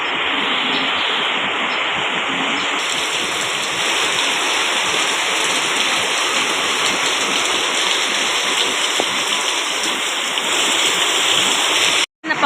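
Heavy rain from Typhoon Carina pours down in a steady, loud rush that continues unbroken until it cuts off abruptly at the end.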